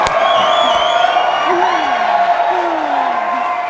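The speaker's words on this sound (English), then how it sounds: "you can hear the cheering behind us" Falcon 9 launch team cheering and whooping in the background behind a steady loud hum and broadband hiss, with a few distinct shouted whoops rising over the noise.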